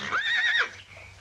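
A single horse whinny, shrill and wavering, rising then falling over about half a second, followed by quiet background hum.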